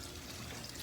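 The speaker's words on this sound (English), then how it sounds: "we're going to put the water on as cold as it can go and just kind of run it over" Cold tap water runs steadily over cooked tortellini in a colander, a continuous close hiss and splash of pouring water with no pauses, alone without talk.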